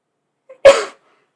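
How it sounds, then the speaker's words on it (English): A single sharp sneeze, preceded by a tiny intake of breath, loud and close, then silence. "Oh, I'm going to sneeze."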